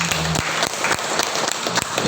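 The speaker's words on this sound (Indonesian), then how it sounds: "Tepuk tangan meriah buat Bapaknya" Audience applause for a man at a health testimony event, a short burst of many hands clapping with rhythmic accents, loud and close, without talk.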